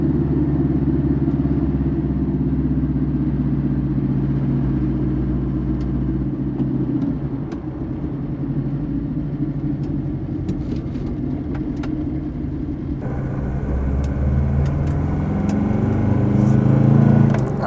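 Diesel car engine pulling while driving, a steady low rumble that holds throughout and swells slightly near the end, with no talk.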